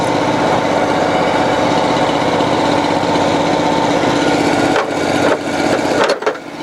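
Gas engine of a cold water sewer jetter idling while warming up, a loud, steady, close drone with some clanks near the end.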